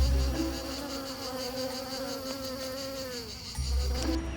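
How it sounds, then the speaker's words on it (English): Flies and mosquitoes in Florida buzz continuously and close by, a layered droning whine that swells and fades slightly, with no voices. "And then there were the bugs."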